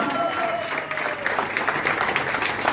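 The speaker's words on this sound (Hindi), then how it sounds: "जोरदार तालियां।" Loud, continuous audience applause fills an indoor team-building seminar hall in Prayagraj as two leaders are welcomed onto the stage, with dense steady clapping throughout.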